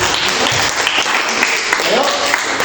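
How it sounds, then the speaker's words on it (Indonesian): Clapping from a classroom group after a presentation, steady and dense throughout, loud and close, with voices mixed in beneath. "Silakan tepuk tangan."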